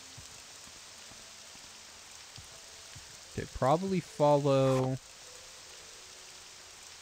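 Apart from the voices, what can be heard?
rain in the video game Morrowind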